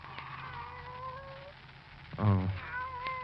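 Barbara's pet cat, Kitty, gives a short meow near the end of a radio mystery drama scene, heard faintly under soft background music and tones.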